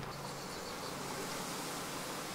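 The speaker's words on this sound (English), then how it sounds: "Oh, there's a lot of bees in here now." Honeybees in an opened hive during an inspection, a dense steady buzz of many insects close by with no talking.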